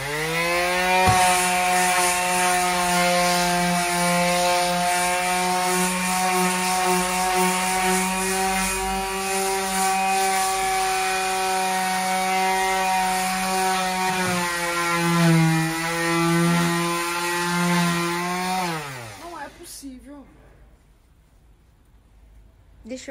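An electric sander works a surfboard blank with a loud steady whine and a buzzy motor hum that holds for about nineteen seconds, then winds down and stops.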